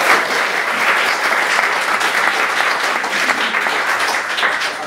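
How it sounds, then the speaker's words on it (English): An audience at a speech bursts into dense, sustained applause, loud and close throughout. "So if we can just clap a round of applause for our parents."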